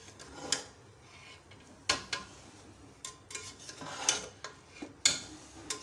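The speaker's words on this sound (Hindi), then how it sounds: "मैं इसको हल्का सा मिक्स करूँगी पहले।" A spoon stirs beef yakhni biryani in a metal pot with gentle scraping strokes, producing soft rubbing sounds and a few distinct clinks against the pot, close and fairly quiet, with no voices.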